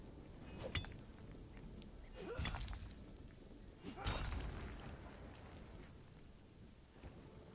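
Steady rain from RuneScape: Dragonwilds with low rolling thunder swelling twice in the middle, continuous and fairly distant, no voices over it.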